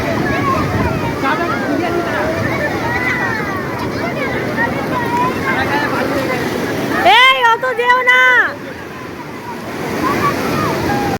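Waves and surf wash continuously with wind noise on the crowded sea beach at Puri, India, while people's voices and calls rise briefly over the roar of a busy shore.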